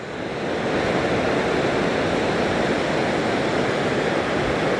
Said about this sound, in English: Let's see this bigger wave here.